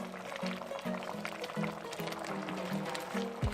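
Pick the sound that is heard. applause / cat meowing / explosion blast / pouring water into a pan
pouring water into a pan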